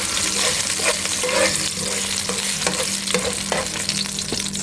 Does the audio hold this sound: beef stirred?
yes